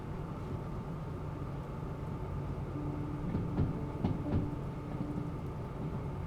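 A long train in the railway game Derail Valley rolls slowly on rails around a curve, making a steady low rumble with a few faint metallic clanks and squeals, no voices.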